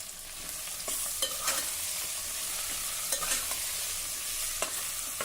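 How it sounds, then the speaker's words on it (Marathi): Peas, cauliflower and carrot pieces stir-fried in a pan for masala rice, a steady soft sizzle broken by occasional scraping strokes of a spatula, close and moderately loud. "एक मिनिटासाठी आता ह्या भाज्या आपण परतून घेऊ."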